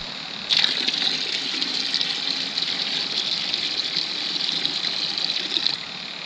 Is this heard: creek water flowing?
yes